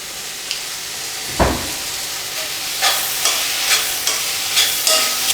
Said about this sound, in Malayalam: ഗ്രീൻ പീസ് ചേർത്തിട്ടേ നല്ലതുപോലെ ഒന്ന് മിക്സ് ചെയ്യണം.